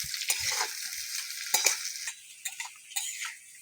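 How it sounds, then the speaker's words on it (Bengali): Chopped onion fries quietly in a pan, with a faint hiss broken by several light spoon scrapes and taps at uneven intervals. "পেঁয়াজটাকে একটু ভেজে নেব।"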